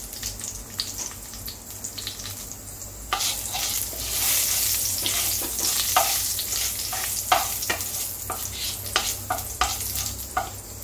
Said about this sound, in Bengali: তেলটা গরম হয়ে গিয়েছে, দিয়ে দিলাম আমি একটা শুকনো লঙ্কা, 2টো তেজপাতা, একটু গোটা জিরে আর একটু দিয়ে দিলাম কালো জিরে